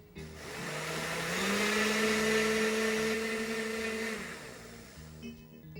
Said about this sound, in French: on verse le potage Dans le mixeur. mixeur et on mixe